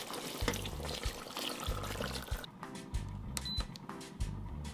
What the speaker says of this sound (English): Lastly, you're gonna add 1 cup of water.